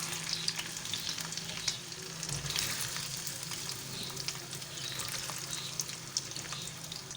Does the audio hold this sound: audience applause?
no